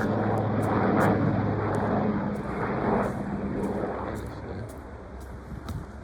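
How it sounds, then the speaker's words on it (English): A helicopter engine drones overhead above the Rochdale Canal, loud at first and then gradually fading into the distance, with no one speaking. "There's a helicopter."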